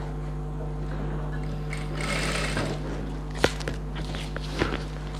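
Domestic sewing machine stitching pattu pavadai silk fabric, a steady mechanical hum with rapid stitching clatter, near and continuous, with a couple of brief knocks toward the end.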